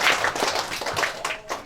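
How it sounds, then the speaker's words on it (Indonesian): A short burst of crowd applause at an evening engagement ceremony in Cempedak, many hands clapping together at close range and fading slightly toward the end. "boleh nggak minta tepuk tangan lagi untuk kita semua pada malam hari ini"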